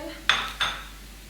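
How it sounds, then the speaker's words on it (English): A spoon knocks twice against a pot while lamb and vegetable soup is stirred, two quick metallic clinks about a third of a second apart, close and fairly quiet. "Just give it a good stir"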